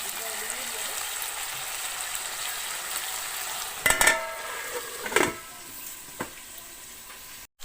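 Pork with lai greens fries in a pan with a steady, moderate sizzle, broken by a few brief clatters of a utensil or lid against the pan.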